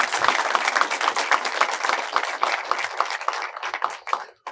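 An audience at a French talk show applauds, a dense burst of close, lively clapping that carries on steadily for several seconds and then thins out.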